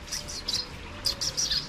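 Pet munia chirping in quick, bright bursts while being fed millet, several short high calls close by with a faint background hum.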